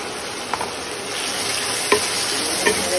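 Cumin and coriander powder masala fries in a pan with a steady, fairly loud hissing sizzle and a few light stirring clicks spaced through it, no voices.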